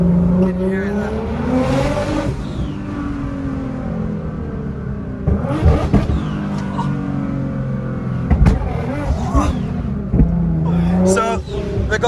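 A 700hp 2012 Nissan GT-R engine revs hard in repeated rising surges, loud and close, with sharp bursts and crackles between pulls while people talk over it.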